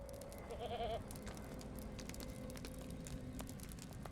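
A goat in Lord of the Rings Online, a mount offering passage to Nûd-Melek in the Flaming Deeps, gives a single short wavering bleat over a steady low game ambience with scattered clicks.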